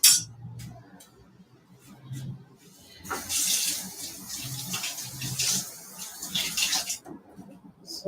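Kitchen tap water runs while food is rinsed for a homemade meat pie. A few seconds of faint clinks give way to a steady, close rush of running water lasting about four seconds, with no speech.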